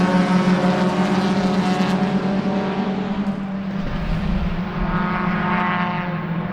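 A pack of Spec Racer Ford race cars streams past at Sebring during a two-hour enduro, their engines merging into a loud, continuous droning roar that swells and fades slightly as the cars go by.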